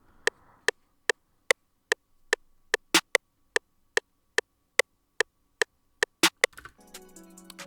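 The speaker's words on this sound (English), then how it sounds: "I added a second snare" A second, generic snare drum sample in an FL Studio beat plays as a rapid, evenly spaced run of sharp, dry hits, a few louder accents among them, followed by a short tail of other sound.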